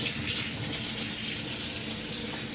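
Tap water runs steadily into a sink while a halved lobster is washed under it, a constant close splashing rush with no talk.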